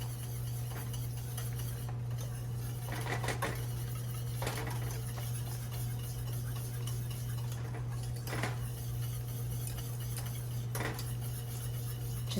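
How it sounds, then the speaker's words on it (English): A whisk ticking against a bowl while mixing a keto dessert, soft intermittent clinks over a steady low hum, with no talk. "whisk this until it is all dissolved and mixed together"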